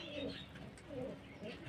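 Two domestic pigeons coo quietly nearby, a few low, rolling calls repeating at a relaxed pace.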